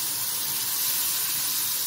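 Vinegar hitting garlic frying in a little oil gives off a loud, steady hiss of sizzling steam that holds evenly for the whole moment, with no voices.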